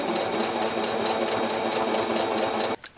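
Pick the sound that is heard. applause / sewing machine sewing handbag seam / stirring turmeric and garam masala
sewing machine sewing handbag seam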